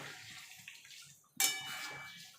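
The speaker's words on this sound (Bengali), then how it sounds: "এবার দিয়ে দেবো একটু গরম জল।" Hot water poured into a pan of plain white potato curry (aloo dum): quiet kitchen clatter, then a sudden splash that settles into a short, fading pour.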